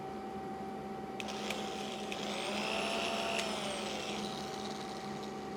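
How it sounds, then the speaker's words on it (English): A Biax power scraper runs steadily, a continuous electric motor whine with a faint rhythmic rasp as it works the high spots on a machined surface, moderately close with no talking. "This is the Biax power scraper we showed you in the tools that you use for scraping"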